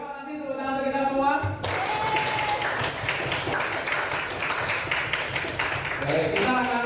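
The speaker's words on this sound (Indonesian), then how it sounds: "tepuk tangan untuk kita semua" Audience of students clapping in a classroom, a burst of dense, steady applause lasting several seconds right after a woman's brief speech, with her voice returning at the end.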